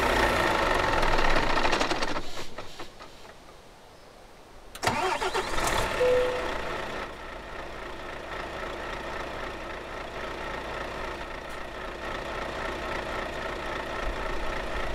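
A truck engine in Euro Truck Simulator 2, heard from outside, cranks and catches after a brief lull, then settles into a steady, rumbling idle that runs on continuously.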